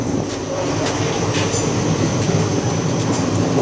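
Steady, loud rumble and rattle fill the interior of a moving Indian train carriage on the Mumbai to Jhansi route. The rolling noise stays constant throughout, with no voices over it.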